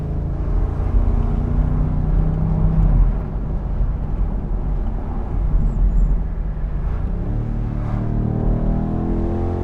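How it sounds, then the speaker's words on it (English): A BMW M850i Convertible engine in sport mode drones loudly and continuously, swelling as it revs up early on, then settling into a steady hum. "I'm actually running in sport mode right now, so you might be able to hear the engine sound"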